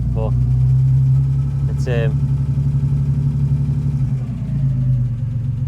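A classic Ford Capri engine idles steadily close by, a continuous low rumble with no revving, while someone talks over it.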